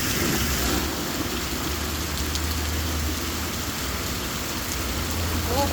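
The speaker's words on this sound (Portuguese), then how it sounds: "Olha quanta chuva, gente. Como tá chovendo aqui em Bezerra." Heavy rain falling in Bezerra, the first rain of 2024, as a steady, loud broadband hiss of rain on surfaces with a low engine-like rumble beneath, continuous throughout.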